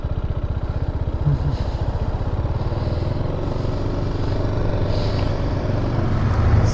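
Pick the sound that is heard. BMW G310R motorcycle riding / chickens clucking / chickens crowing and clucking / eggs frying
BMW G310R motorcycle riding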